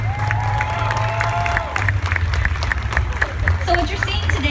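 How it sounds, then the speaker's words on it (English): Audience applause and cheering for dancers at a Texas folklife festival, a fairly loud, steady wash of clapping and crowd noise with a few whistles, lasting the whole stretch. "let's give these ladies a round of applause"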